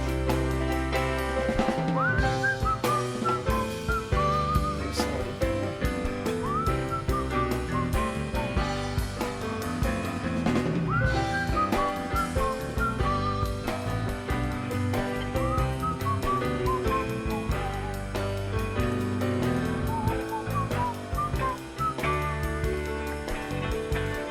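A whistled melody with rising, gliding notes carries over steady, full instrumental music that plays throughout.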